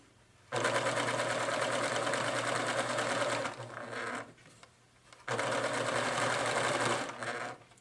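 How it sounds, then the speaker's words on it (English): Sewing machine stitching sashing onto a quilt, two long runs of fast even whirring motor and needle clatter separated by a short pause, close and clear with no talk. "So I'm going to go ahead and stitch this sashing down."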